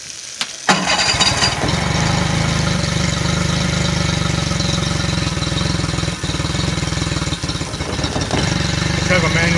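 A Yamaha 40 HP outboard motor runs steadily close by, a constant loud engine drone lasting the whole stretch after a brief quiet start, with people talking over it.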